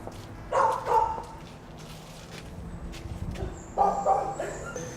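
Dogs bark and yip in short bursts inside animal shelter kennels, a couple of sharp volleys echoing in the pens with quieter movement and shuffling between them.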